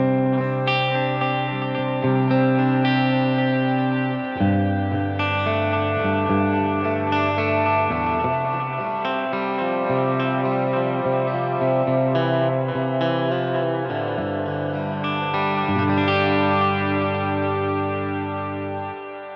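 An electric guitar played through a Wampler Ethereal reverb/delay pedal rings out in lush, sustained chords with long reverb tails and echoing repeats, forming a continuous ambient wash with no talking.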